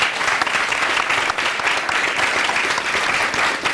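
Concert audience applauding at a televised show, a dense, steady wash of clapping from many hands, loud and continuous without voices over it.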